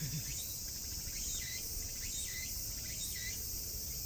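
Steady high-pitched insect buzzing with repeated pulsing calls, a dense continuous drone from nearby cicadas, no voices.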